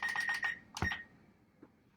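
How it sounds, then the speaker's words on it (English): A kitchen timer being wound and started while syrup boils on the stove, heard as a quick run of bright, near ticking clicks followed by a sharp click and a faint tick afterward. "I'm going to start my timer."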